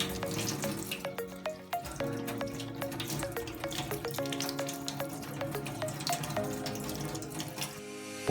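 Ingredients for an herbal cough remedy are washed under a running tap, a steady close stream of water splashing with frequent sharp drips and clinks.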